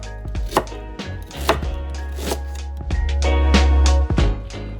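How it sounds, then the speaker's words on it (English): A knife chops fresh ginger steadily on a board, a series of sharp, close thuds at an even pace with no talking. "I'm simply chopping this into nice sized pieces"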